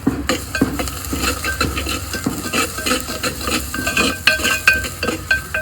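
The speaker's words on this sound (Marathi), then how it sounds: "तर हा मसाला आपण याच्यामध्ये कांद्याच्या याच्यात फ्राय करूया" Masala fries with onions for a village-style mutton handi cooked over a wood-fired stove, a loud, busy sizzle broken by rapid scraping and clinking of a spoon stirring close up, with no speech.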